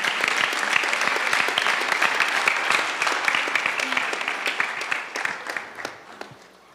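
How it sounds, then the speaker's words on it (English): A crowd applauds steadily, dense clapping that holds for several seconds and then thins out and fades. "So give her a round of applause"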